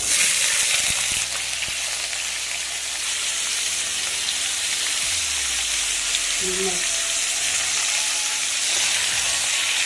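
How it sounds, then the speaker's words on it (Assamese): Oil sizzles and crackles steadily as potatoes fry with cumin in a pan, a continuous frying hiss with occasional stirring scrapes and no talking. "মই এতিয়া অলপ জিৰা ফোৰণ দিলোঁ, নিদিলেও হয়, মই দিলোঁ আৰু আছে। আলুখিনি ভাজি ল'ম।"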